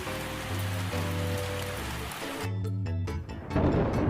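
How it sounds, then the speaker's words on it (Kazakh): Steady rain pours down on a surface, a dense hiss that is mixed with gentle background music through the first half and then stands out more loudly near the end. "Жаңбыр."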